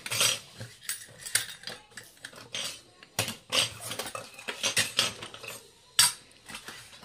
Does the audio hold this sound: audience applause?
no